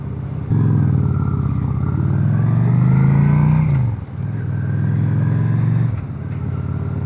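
A 2006 Honda Shadow VT750 cruiser motorcycle riding on the road, its engine droning loud and close in a steady low rumble that swells and eases with throttle changes, with wind noise and no talk.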